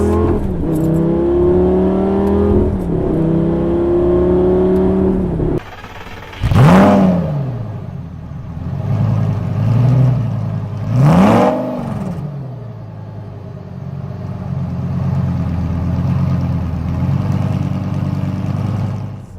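A Lamborghini Gallardo accelerates hard. Its loud engine climbs through several gear changes, then two sharp revving bursts stand out before it settles to a steady, rumbling cruise.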